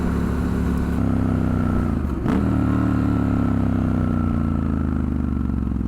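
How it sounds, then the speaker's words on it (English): A Triumph Scrambler 1200 XE motorcycle drops a gear on the road, its steady engine drone stepping up in pitch with a brief blip and clatter around the shift, close and loud amid constant wind. "The downshift is so loud."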